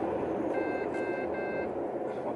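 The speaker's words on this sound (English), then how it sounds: "What's that beeping noise?" A repeated electronic beep, about three short even tones in a row, sounds at moderate distance over a steady background hum.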